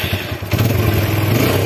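A motorcycle with 60,000 km on it starts up: a brief cranking clatter, then the engine catches and settles into a loud, steady idle close by.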